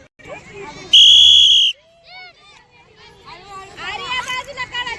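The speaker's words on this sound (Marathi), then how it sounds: "तीन शिट्या लावतो आता तीन शिट्ट्या आहे" A loud, sustained whistle blast of about three-quarters of a second at a school sports competition, followed by a noisy crowd chattering and shouting.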